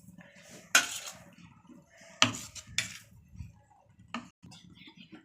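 A utensil clinks against a bowl while rava dosa batter with grated vegetables and onion is mixed, giving a few sharp, close knocks with softer scraping and stirring between them and no talk.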